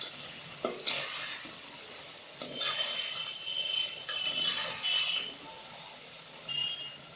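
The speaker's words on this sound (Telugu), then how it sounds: "ఇలా ఉడికిన తర్వాత మనం నూనెలో వేయించుకున్న ఎండు చేపలని ఇలా వేసుకొని" Oil-fried dried fish is stirred into a simmering tamarind and tomato curry, with scraping spoon strokes and bursts of sizzling in the pot, close and moderately loud.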